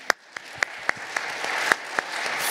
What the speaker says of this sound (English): big applause to our speakers